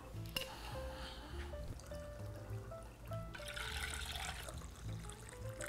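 Water is poured into a measuring cup, a soft, fairly quiet trickling and splashing that swells toward the end.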